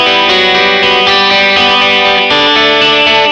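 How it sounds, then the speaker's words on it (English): Bright, jangly electric guitar through a Vox amp with a treble booster, ringing chords with shimmering effect and sustained harmonics, played loud and close with no talking. "a term which is called jingle jangle or jangle guitar for that typical Vox boosted with a treble booster guitar sound"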